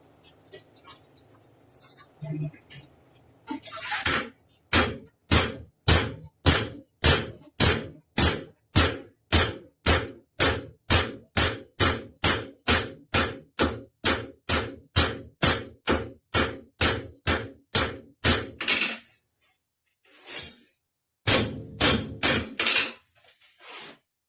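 Hammer peening a Japanese weeder blade: a long, steady run of sharp metallic strikes at an even rhythm, close and loud, pausing briefly before a final short burst of blows.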